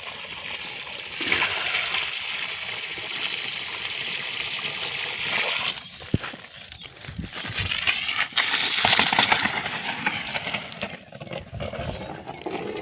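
Water pours and splashes onto the soil around mango, chikoo and nutmeg trees in a garden, a broad rushing hiss that swells and fades with a few sharp knocks.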